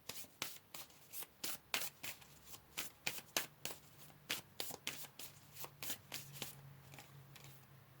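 Tarot cards being shuffled by hand during a card reading, a steady run of crisp riffling and slapping bursts in quick rhythm, close and clear with no voices.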